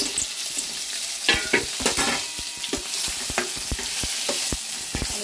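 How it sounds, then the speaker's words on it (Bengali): Potatoes fry in mustard oil with whole cumin seeds and a dried red chilli, a steady close sizzle broken by repeated scraping stirs of a spatula in the pan. "আলুগুলো একটুখানি লাল লাল করে ভেজে দিই।"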